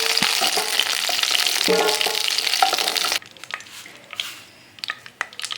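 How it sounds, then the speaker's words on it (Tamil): Eggplant pieces sauté in sesame oil in a pan, giving a loud, steady frying sizzle with stirring clatter for about three seconds, then quieter scattered sizzles and scrapes. "கத்திரிக்காய் பார்த்தீங்கன்னா நல்லா வதக்கியாச்சு. இந்த எண்ணெயிலே பார்த்தீங்கன்னா பாதி வெந்துருக்கு."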